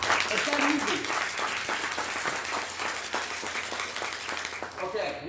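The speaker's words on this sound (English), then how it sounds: "Let's give them a round of applause." Scattered clapping from a modest audience at a CONEXPO Las Vegas presentation, fairly quiet and steady, with some voices mixed in.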